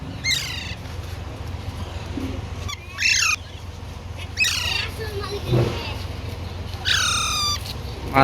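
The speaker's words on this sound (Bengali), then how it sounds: "চন্দনাটিয়ার বাচ্চা দেখেন সাউন্ড দেখেন" Young Alexandrine parakeet chicks give loud, harsh squawking calls in several separate bursts, close by, over a steady background hum.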